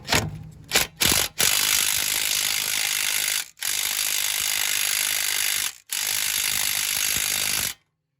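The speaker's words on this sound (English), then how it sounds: "We got our cordless impact, and we're going to make sure it's in reverse." A cordless impact wrench running in reverse on a sway bar link of a 2009 Dodge Caravan, rattling loudly in a few short bursts and then in long sustained runs with brief pauses, close and alone.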